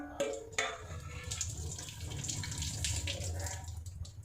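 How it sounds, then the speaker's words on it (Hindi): Water from a tap falls drop by drop into a basin, a few distinct plops near the start followed by a steady trickling splash that carries on throughout, fairly close and moderately loud. "ये जो एक एक बूंद निकल रही है छोटी छोटी, ये होती है प्लिप प्लॉप।"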